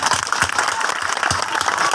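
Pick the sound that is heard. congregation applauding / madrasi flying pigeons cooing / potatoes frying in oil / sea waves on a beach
congregation applauding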